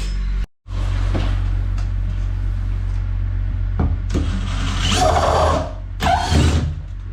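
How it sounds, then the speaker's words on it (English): A power drill whirs steadily near by, drilling holes for downlights in a pub toilet, with a low motor hum throughout and a few louder grinding surges as it bites in. "So let's drill the holes."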